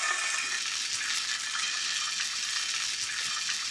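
Salmon sizzles steadily in a hot sauté pan, a bright continuous frying hiss with small crackles that stays close and even throughout, with no talking.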